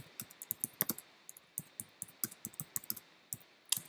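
Typing on a Mac keyboard, a steady run of light, crisp key clicks at an uneven tapping rhythm, close and fairly quiet with no voices.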